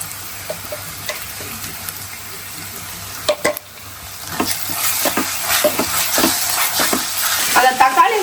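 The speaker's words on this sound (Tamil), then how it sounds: "அத தக்காளி வெங்காயம் வதக்குற ஒரு செயல் தெரியுமா?" Tomato and onion sauté in a pan, starting with faint scattered taps and a quiet sizzle, then a louder, denser frying hiss with stirring clatter near the end.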